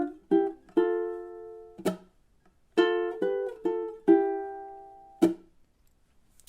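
Ukulele playing measures 2 and 3 of a cute arrangement of Bill Withers' "Lean On Me": a series of plucked and strummed chords with short muted chops between them, close and clear with no voice.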